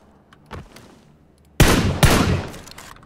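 Gunfire in the battle-royale video game PUBG: Battlegrounds, a quiet distant shot first, then two loud, sharp bursts of rapid automatic fire with echoing tails, and no talk over them.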